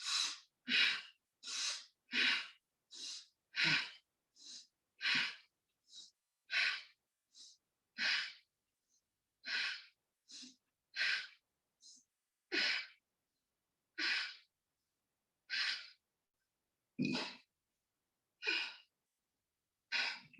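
Deep, audible breaths repeated in a steady rhythm during a yoga breathing exercise for the rib cage and chest, about twenty close, clear breaths with short pauses between them and no talking.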